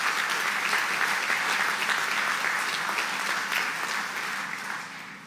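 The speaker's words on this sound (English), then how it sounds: "clap for that." An audience claps at a groundbreaking ceremony for a workforce training center in Alabama, with dense, sustained applause that gradually tapers off.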